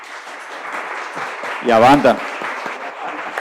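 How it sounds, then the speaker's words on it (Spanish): Audience applause at a community event, a broad wash of clapping that runs under someone speaking through the whole stretch. "que le demos un aplauso a los..."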